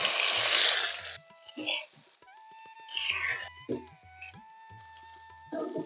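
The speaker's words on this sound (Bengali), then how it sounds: "যেহেতু আমি প্রথমে মাছটা ভেজে নেব দিয়ে দিচ্ছি মাছ" Rohu fish pieces go into hot oil in a wok with a loud burst of sizzling at the start and again at the end, while tonal music and a voice fill the quieter middle.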